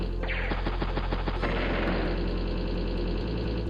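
Units exchanging fire in Advance Wars: Days of Ruin, a quick rattle of repeated shots over a steady game soundtrack, loud and continuous with no talk.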